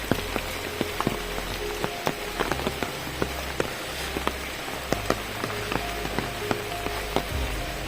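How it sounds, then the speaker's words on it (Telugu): Heavy rain falls around a large mango tree, a dense, constant hiss of downpour with crisp individual drops tapping nearby surfaces, loud and close with no voices. "వర్షం అయితే బాగా పడుతుంది"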